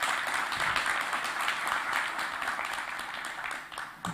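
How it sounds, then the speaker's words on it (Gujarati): An audience claps for Suresh sir at a session, moderately loud steady applause that slowly fades over a few seconds. "સુરેશ સર માટે તાળીઓ પાડશું"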